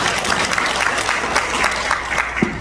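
A crowd of residents at a redevelopment residents' briefing meeting breaks into steady, dense applause that fills the room throughout, with a few individual claps standing out near the end.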